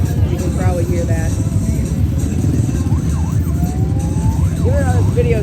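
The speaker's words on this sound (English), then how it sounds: "One of them has a siren. You can probably hear that." A parade vehicle sounds a siren in short wailing sweeps and one longer rising tone over a constant rumble of passing engines and nearby crowd chatter.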